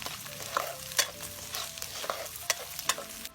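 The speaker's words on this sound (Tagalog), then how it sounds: "habang ginigisa natin ang ating sardines" Sardines sautéing in a pan for sardine pasta, a soft sizzle broken by several sharp scraping stir strokes at uneven intervals, close by with no talking.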